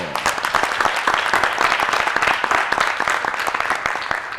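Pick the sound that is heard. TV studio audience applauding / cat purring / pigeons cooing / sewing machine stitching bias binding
TV studio audience applauding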